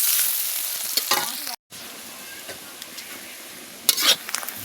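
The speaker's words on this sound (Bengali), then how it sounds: "এবারে পেঁয়াজটাকে আমি খুব ভালো করে একটু গোল্ডেন করে ভেজে নেব" Onions frying in fish oil in a pan for a rohu curry give a steady close sizzle, with occasional scraping stirs and a brief dropout midway.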